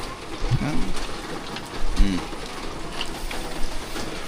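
Steady rain falling outdoors, a dense hiss with scattered louder drops, heard close with no talking.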